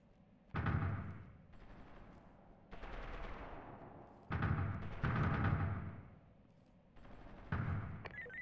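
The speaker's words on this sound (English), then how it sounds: "Shots are being fired at the perimeter from the neighboring laundromat." Distant gunfire crackles in the Ready Or Not tactical shooter on the Northside Vending map, a few muffled bursts of shots coming from a neighboring laundromat, rolling in separate groups over low background ambience.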